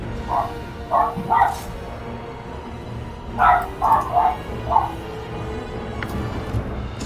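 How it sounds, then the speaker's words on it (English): A dog barks indoors in the room, two clusters of sharp, fairly close barks, three and then four in quick succession. Low game sound runs underneath throughout. "Oh, it's my dog barking then."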